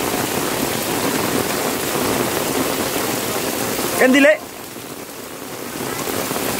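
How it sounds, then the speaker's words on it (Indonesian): Heavy rain pours down steadily around a house during strong wind, a dense hiss of drops on surfaces that dips after a brief spoken word. "Deras banget ya, ini sudah setengah jam lebih hujan"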